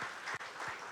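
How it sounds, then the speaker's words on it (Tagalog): Church congregation clapping during a Sunday service, a short, dense burst of applause with a brief dip partway through. "Pwede po bang pumalakpak ang lahat ng mga excited?"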